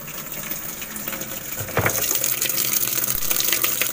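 Water rushing into a Whirlpool automatic washing machine, a steady hiss and gush that grows louder and brighter partway through and then stays strong and continuous.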